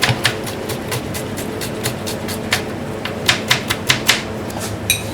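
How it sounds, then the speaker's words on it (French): Knife slicing onions into strips on a cutting board, a series of crisp, close taps in a loose, fairly regular rhythm, with no talking. "On coupe les oignons en lamelles."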